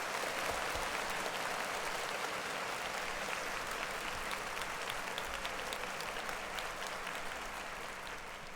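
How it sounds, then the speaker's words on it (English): A crowd applauds steadily, a dense wash of clapping that holds at the same level and tapers only slightly toward the end. "So clap it up for AB"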